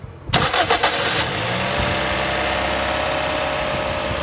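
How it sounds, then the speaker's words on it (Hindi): A Toyota Corolla GLi engine cranks and fires after being switched off, with a quick burst of starter clatter before settling into a steady, loud idle that runs to the end of the clip. "ये देखें अभी इसको बंद करके स्टार्ट किया है"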